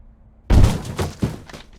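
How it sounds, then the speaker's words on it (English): Police forcing open an apartment door in a crime video game, a heavy thud followed by several rattling, banging impacts in quick succession. "we're gonna have to force the door."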